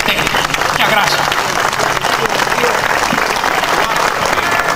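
A crowd at an outdoor commemoration ceremony applauds loudly and continuously, a dense wash of clapping with crowd noise mixed in.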